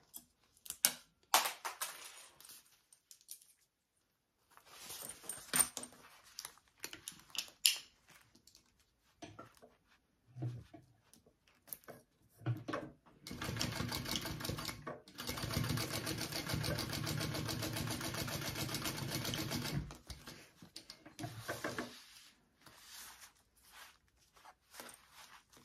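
A sewing machine stitches a seam on a sewing project in short bursts of close mechanical whirring, with one longer run of steady stitching midway, separated by quiet pauses and handling noises.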